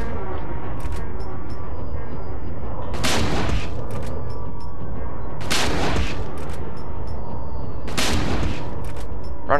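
Three loud shotgun blasts from the survival horror game Silent Hill 2, each a sharp broadband crack spaced a few seconds apart over a constant dense rumbling game ambience.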